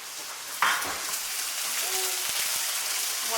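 Burgers and bacon frying in grease, giving a steady close hiss and crackle that swells after a sharp start, with brief faint voice-like tones underneath.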